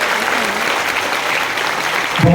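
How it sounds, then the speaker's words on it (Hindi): An audience claps to cheer on children after a cultural performance at a water sports games event in Tehri, a dense, close burst of applause that stays level and then breaks off. "एक बार फिर तालियों से इन बच्चों का उत्साह वर्धन करें"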